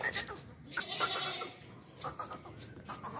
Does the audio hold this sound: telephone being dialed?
no